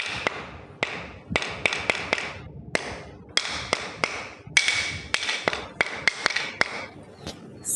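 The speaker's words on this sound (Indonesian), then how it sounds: "Di pagi hari, Abi Hashim sedang sibuk membuat kerajinan seperti kursi dan meja." Sharp tapping and hammer-like knocks on wood while building wooden chairs and tables, a steady irregular series of close, crisp hits with short pauses between bursts.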